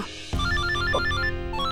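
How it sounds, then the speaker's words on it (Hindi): A mobile phone ringtone for an incoming call starts abruptly and plays a bright, repeating melodic pattern, loud and close, with no talk over it. "लो आप ही की सास का फोन आ रहा है।"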